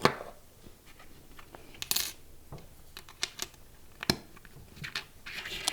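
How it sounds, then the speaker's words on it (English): A metal punch rolls over bezel wire on a countertop, giving sparse, quiet metallic clicks and small scraping taps with a few sharper knocks, close by and without any talking. "I'm going to push down on my countertop and I'm going to roll to stretch that bezel."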